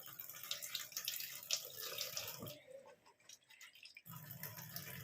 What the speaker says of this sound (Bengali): একটু জল বদলে বদলে মাখনটা ভালো করে ধুয়ে নেব